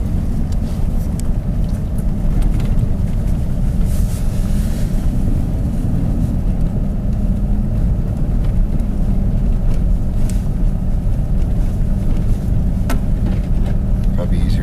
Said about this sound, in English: right now we have our 4x4 locked in high, so we have full traction